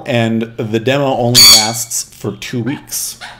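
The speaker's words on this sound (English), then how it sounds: "I apologize for the birds, but they're much quieter in here than they are if I left them in the other rooms." Pet birds squawk indoors in short, sharp bursts, loud and close, cutting in and out beneath someone speaking.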